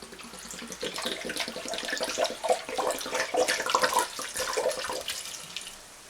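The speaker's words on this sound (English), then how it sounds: "In goes the vinegar." Vinegar, about 568 millilitres, poured into a pan for homemade British brown sauce, giving a continuous splashing, trickling pour that is close and steady throughout.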